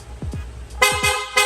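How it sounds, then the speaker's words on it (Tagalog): A loud Piaa horn fitted to a Honda Click v3 scooter blares in short, bright blasts, three quick honks in close succession, near and piercing. "loud horn."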